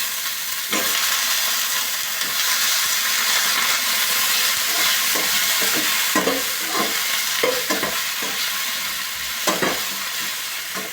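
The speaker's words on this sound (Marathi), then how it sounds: "आता वांगे भाजून घ्यायचे" Wet brinjals fry in a pan with hot oil, giving a loud, steady sizzle and hiss broken by intermittent stirring scrapes and pops.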